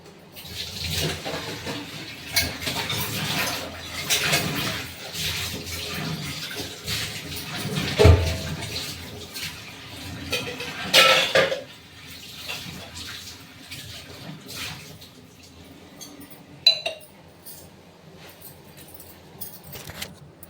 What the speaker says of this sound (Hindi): और इधर जो बर्तन अभी आटा वगैरह साने थे और ये दूध का बर्तन, इसको धुलना है।